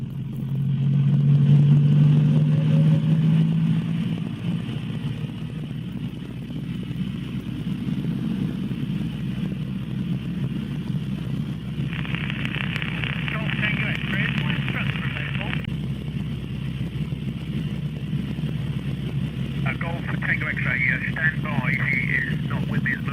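A training helicopter's engine starts and runs up to 2000 RPM: a loud, rising mechanical whine that settles into a steady turbine drone, with voices talking throughout.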